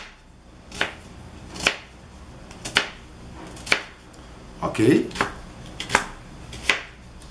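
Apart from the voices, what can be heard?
knife chopping onion into cubes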